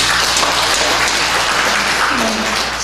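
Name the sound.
congregation applause in church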